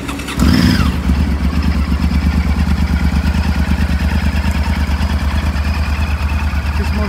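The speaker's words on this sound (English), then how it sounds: "if we pop round and pop the ignition on for you" A 2007 Honda XL1000 Varadero ABS motorcycle with 38,165 miles cranks and fires up within the first half second, then settles into a loud, steady, throbbing idle close to the microphone.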